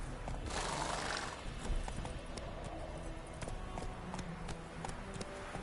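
Roach, the horse in the video game The Witcher 3, gives a loud whinny and then gallops, close hooves thudding in a steady rapid rhythm.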